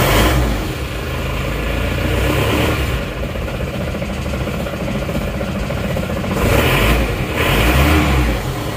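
A car engine cranks and catches, then runs steadily with a loud, close rumble and a couple of revving surges near the end, with no talking over it.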